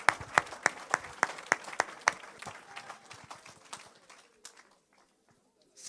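A church congregation bursts into applause acclaiming Jesus, with sharp rhythmic group claps in a steady beat that thin out and fade to near silence, then a faint murmur of voices.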